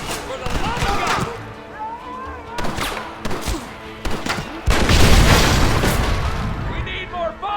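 Gatling gun firing in Red Dead Redemption amid a chaotic battle, with heavy booms and rapid bursts growing louder toward the end, mixed with shouting voices.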